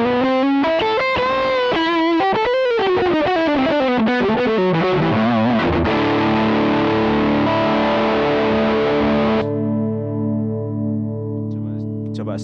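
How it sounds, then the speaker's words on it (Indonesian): An Ibanez GRG170DX electric guitar played through heavy distortion, with a fast run of loud, gritty notes that settles into sustained ringing chords, then a held tone fading toward the end. "Tambah left distorsi."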